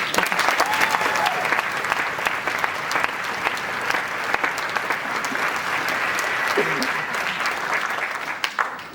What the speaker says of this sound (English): they deserve another huge round of applause